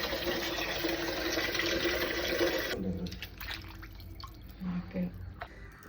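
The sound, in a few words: washing chicken meat in water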